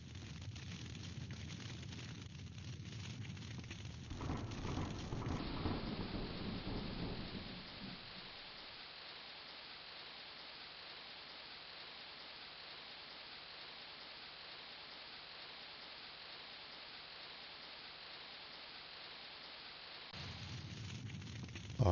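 A thunderstorm with rain, conjured by a spell in King's Quest III Redux, rumbles loudly for the first several seconds. It then settles into a steady, soft hiss of falling rain, and the rumble swells again at the end. No talk is heard.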